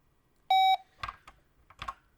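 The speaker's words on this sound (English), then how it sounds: "it gets a noise when you score a goal" A single bright electronic beep marks a goal in Indoor Soccer, a retro home-computer game, sounding once for about a quarter second, followed by a few soft, scattered noises.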